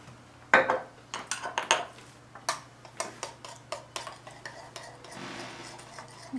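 A utensil clinks and scrapes against a dish while honey salad dressing for a wilted ramp salad is stirred, a burst of quick taps followed by lighter intermittent clicks, close and fairly loud against a steady low hum.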